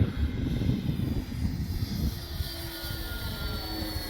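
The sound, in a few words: radio-controlled Dynam Bf-109 model airplane flying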